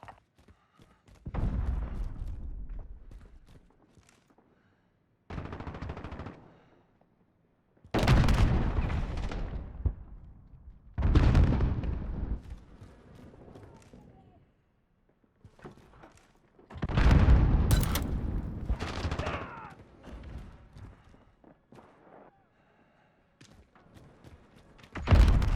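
Gunfire in the video game Call of Duty: Modern Warfare, heard as several separate bursts of heavy shots and booming thuds with short quiet gaps between them, loud and close, with no talk over it.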